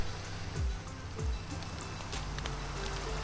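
Rain falls in Minecraft at night, a soft, steady patter with scattered drop ticks, joined by a couple of low gliding tones early on.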